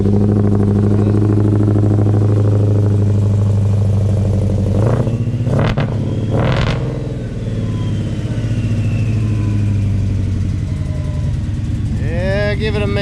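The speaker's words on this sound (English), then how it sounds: "See what that 3/8 exhaust sounds like." A supercharged car engine on its first start idles loud and close through a 3/8 exhaust, with a steady rumbling drone, a couple of sharp blips of revving midway, and a rising whine near the end.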